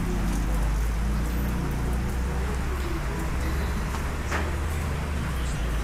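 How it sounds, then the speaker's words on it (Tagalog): Rain falls steadily on a house on the way home from a river trip, a constant close patter with low rumbling underneath throughout. "Inabot tayo ng ulan pag uwi."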